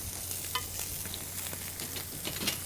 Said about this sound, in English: You want to give that a little stir?